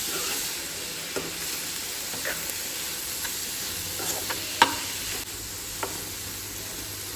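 Finely chopped tomatoes being stirred into frying onions in a pan, a steady soft sizzle with faint scraping ticks of the spoon throughout, fairly quiet and with no talking.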